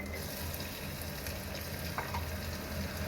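Onion and half a teaspoon of cumin sizzle in hot oil with a steady, fine crackling hiss and occasional stirring scrapes, fairly quiet and close.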